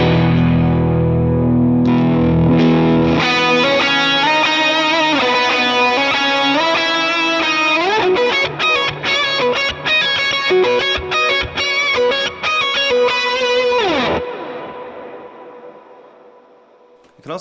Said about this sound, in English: So here's the dual pitch that I use.